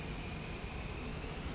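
Airplane taking off in the video game Microsoft Flight Simulator 2024, a steady loud jet engine roar with a constant high whine, no voices.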